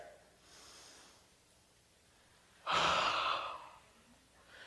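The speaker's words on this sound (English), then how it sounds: "the first thing that we've got to do is to take a very deep breath" An audience at a talk takes a very deep breath together, a soft drawn-in rush followed by a louder, broad exhale that swells and fades, with no speech.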